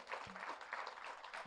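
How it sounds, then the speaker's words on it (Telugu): A short burst of audience clapping for Meena at a meditation gathering, a dense, steady patter of many hands heard at moderate distance for about a second and a half. "మీనా గారి గట్టి క్లాప్ చేద్దాం"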